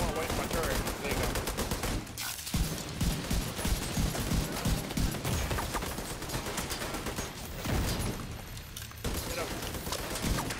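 Rapid, dense gunfire from a shotgun and other weapons in the video game The Division 2 during a squad firefight, loud and nearly continuous with brief pauses, with players talking over it.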